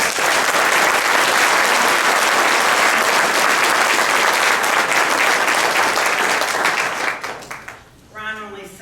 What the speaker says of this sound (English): let's please have a round of applause for our candidates